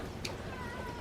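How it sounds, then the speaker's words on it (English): A single short cat meow rises briefly over a steady background hum. "She's been my lap cat ever since Kitty disappeared."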